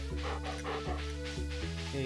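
Farm dog in the video game Stardew Valley, heard as several short soft barks and panting puffs in a regular rhythm over steady game music, fairly quiet with no voices.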